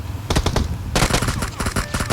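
Rapid bursts of video game automatic gunfire crackle in quick succession, a short volley followed by a longer, sustained burst, loud and close.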